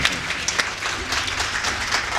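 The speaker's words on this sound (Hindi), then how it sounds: "आपकी तालियां मेरी थकान मिटाएगी। एक बार जरा बजा दो।" An audience at a Hindi comic poetry gathering breaks into steady, dense applause that fills the whole stretch at an even loudness, with no single claps standing out.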